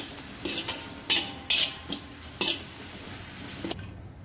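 Appam batter mixed with salt is stirred in a bowl, with several sharp clinks and scrapes of a utensil against the bowl in an irregular rhythm, close and moderately loud, no talking.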